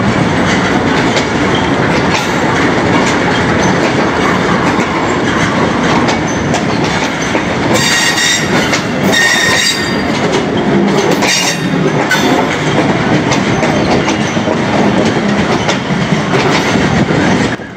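7Up Tezgam Express train arriving at Lahore railway station, with loud continuous rumbling and rhythmic clickety-clack of wheels over rail joints, plus brief metallic squeals as the carriages roll past close by.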